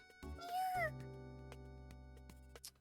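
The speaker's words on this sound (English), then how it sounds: "This poor cat just sounds so defeated right now." A cat in the visual novel Grisaia no Kajitsu gives one drawn-out, plaintive meow that rises and falls over a steady low background hum, quiet and close.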